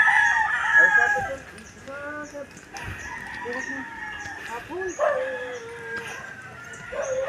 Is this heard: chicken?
yes